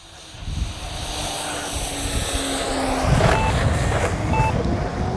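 Two short electronic timer beeps sound over a steady roar of engine and wind noise, with a radio-controlled Heinkel He-111 model plane droning in the background.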